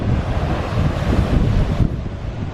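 Surf rolling in at Blue Lagoon Beach, Bateau Bay, under heavy wind buffeting the microphone, a loud, steady roar of waves and gusts with no voices.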